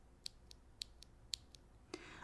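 A single transparent rose gold mechanical keyboard switch with a thocky sound is pressed again and again, giving a steady run of sharp, close clicks spaced about a quarter second apart. A brief hiss comes at the end.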